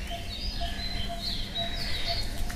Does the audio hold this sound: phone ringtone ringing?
no